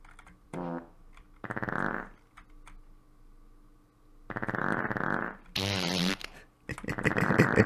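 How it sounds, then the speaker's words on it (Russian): Cartoonish fart sound effects from a Minecraft map, several separate blasts of varying length with short gaps between them, loud and alone with no talk. "Так, давайте посрем."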